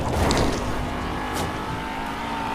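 A car driving steadily, its engine droning loud and close with a continuous low rumble and a brief rise near the start, no voices.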